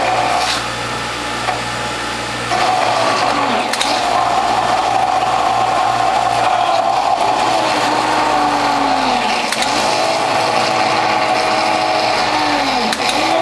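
Juicer fitted with a Near Zero blowback cutter grinding ginger, a loud continuous motor whine and grinding hum with periodic rising and falling strain as the load changes, no talking.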